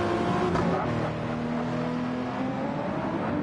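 Race cars in a racing video game, an endurance race at the Nurburgring with a Corvette, braking and passing: engines drone and shift pitch as the cars brake and go by, loud and continuous.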